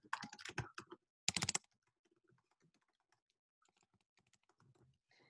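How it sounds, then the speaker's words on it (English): Quick bursts of keystrokes on a computer keyboard as a message is typed, two loud clusters near the start, then softer, sparse taps trailing off, heard alone without talk. "So I would type my message here."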